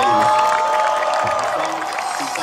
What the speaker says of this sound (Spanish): Así que un gran aplauso para ellos.